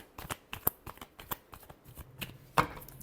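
Tarot cards being shuffled by hand for a final shuffle, a quick run of crisp riffling flicks and soft slaps close up, ending in one sharper snap, with no talking.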